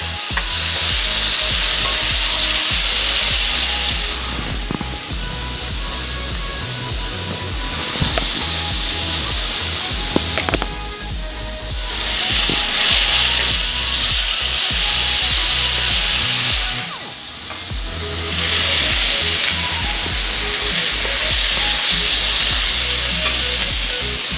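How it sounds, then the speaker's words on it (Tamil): Garlic and tomato sauté in oil for an eggplant and potato curry, with a loud, close, continuous sizzle and frequent scraping and stirring strokes in the pan. "3 நிமிஷமாக வதக்கி கொண்டிருக்கிறேன்"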